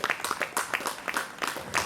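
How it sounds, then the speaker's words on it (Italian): Applause from the audience at an outdoor Sardinian festival in Piossasco, made of distinct, irregular individual claps, fairly close and moderately loud, with no talk over them. "vorrei sicuramente dedicare a nome suo, nostro e di tutti i partecipanti un grande, caloroso, forte applauso"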